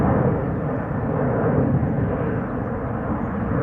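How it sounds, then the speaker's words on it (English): A KLM Airbus A330-200 airliner at Schiphol Airport, heard as a steady, loud, broadband jet engine roar that holds without a break from start to finish. "Let's first have a look at the KLM A332 Kigali."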